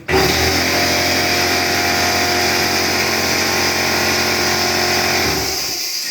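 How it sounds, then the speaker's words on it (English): A loud air compressor motor drones steadily and close by, a constant buzzing hum that cuts off abruptly near the end. "is listening to that damn compressor go."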